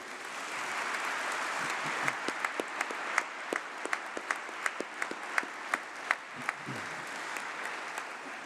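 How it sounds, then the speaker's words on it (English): Audience applause fills a great hall at a university winter graduation congregation, a steady wash of many hands with a few louder individual claps standing out near the front. "let's please put our hands together and give a round of applause to those who have supported your journey"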